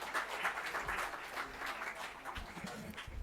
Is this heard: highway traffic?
no